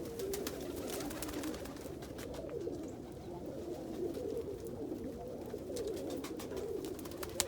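Pigeons coo continuously in a loft housing Indian fantails and rollers, a dense, soft chorus of overlapping calls with a few faint clicks on top.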